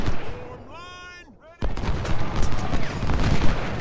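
Musket volleys and artillery fire in Ultimate General: Civil War roll in as a dense, continuous crackle of gunfire after a sudden onset, with a voice talking over the early part.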